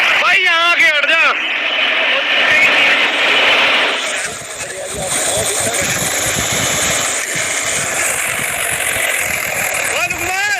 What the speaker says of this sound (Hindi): तो भाई ट्रैक्टर ने पूरे फुल जोर मार रखे।